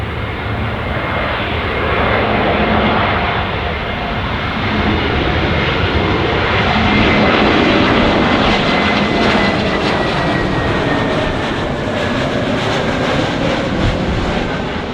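A heavy jet airliner engine roars loudly and continuously, a broad rumbling whoosh that holds steady throughout with no voices.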